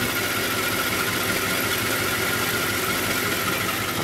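A 1939 Oldsmobile convertible, customized, idles steadily with a smooth, even engine hum and a little exhaust, close by and alone at constant loudness throughout.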